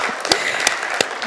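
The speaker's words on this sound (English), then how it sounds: "We can give everybody a round of applause" Applause from the audience at the close of a session at an annual laboratory meeting, a soft steady patter of clapping with a few sharper claps standing out.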